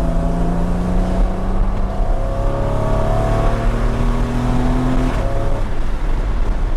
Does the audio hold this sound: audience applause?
no